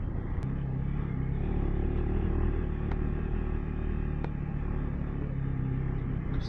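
A BMW motorcycle on 50/50 tires climbs a steep, rocky trail, its engine giving a steady, close rumble with no pauses.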